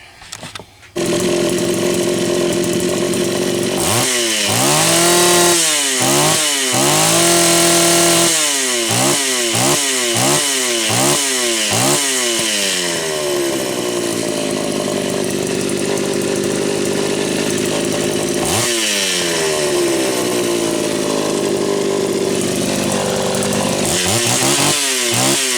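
Homelite Super XL-925 chainsaw on a test run, engine loud and close, repeatedly revved up and dropped back in quick bursts, then holding a steady high whine with another rev cycle near the end.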